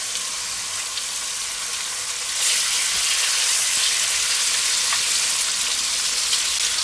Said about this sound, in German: Also hauptsächlich die Zwiebeln sind da mal angeschwitzt.